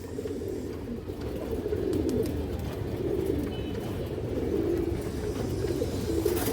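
Domestic pigeons of old local breeds coo in a low, continuous, overlapping murmur that stays close and fairly even throughout, without any speech.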